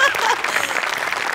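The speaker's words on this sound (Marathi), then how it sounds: "खूप खूप टाळ्या त्यांच्यासाठी" A live comedy show audience bursts into applause, a dense wash of clapping that holds steady for a moment.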